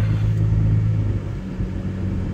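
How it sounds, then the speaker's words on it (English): A car drives along a coastal road ahead of Hurricane Florence, its engine a steady low rumble throughout with no talking. "we're just gonna drive along here"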